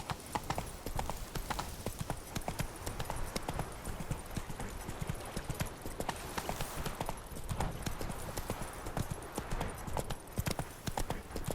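Horse hooves clip-clop steadily and continuously at a gallop in The Witcher 3: Wild Hunt, Blood and Wine, a dense rhythmic pounding with the odd faint whinny and no speech over it.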